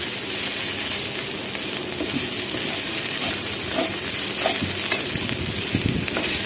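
Bitter gourd fries in a pan on a home stove, a steady close sizzle and hiss with occasional stirring scrapes throughout, with no voices.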